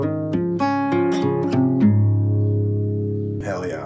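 Both parts of a song played together slowly on acoustic guitar: a short sequence of picked notes, then a held note left to ring out, close-miked, with a brief breathy sound at the end.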